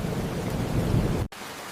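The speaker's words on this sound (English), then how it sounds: "I can hear the rain from here." Steady rain with a low thunderous rumble, dense and continuous, cut off abruptly near the end.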